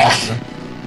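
A single sharp, loud sneeze bursts out up close, then trails off quickly into quiet room noise.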